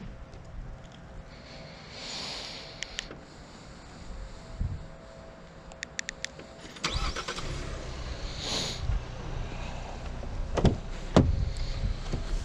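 A 2020 Lincoln Corsair starts up: a chime and a few clicks, then the engine cranks and catches around the middle, settling into a low idle with door and window sounds, no talking.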